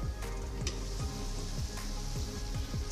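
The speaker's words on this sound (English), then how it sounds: "now we're going to let it cook for 3 to 4 minutes on low flame" Carrots and green chillies cook on a low flame, making a soft, steady sizzle with scattered light pops and crackles, close by and fairly quiet, with no talking.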